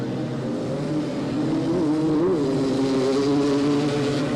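Three-wheeler ATVs at a 1985 AMA National race in Miami howl around the track, a steady loud blend of buzzing two-stroke engines with rising and falling pitch as machines pass, sustained throughout without talk.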